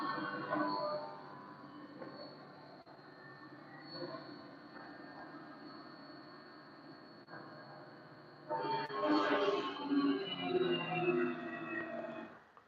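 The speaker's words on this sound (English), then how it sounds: "As the tool starts to engage the material, you could hear the spindle slow down." Machine tool spindle whirring with a steady high-pitched whine and broad mechanical rumble, then growing louder and rougher as the tool bites into the material and the spindle bogs down, without talk.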